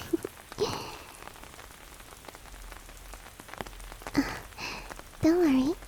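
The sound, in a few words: rain falling during a storm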